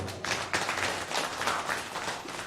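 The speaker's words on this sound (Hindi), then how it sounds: "तालियां एक बार।" Audience applause at a cooperative society's annual function, dense, continuous clapping from a crowd that stays steady throughout.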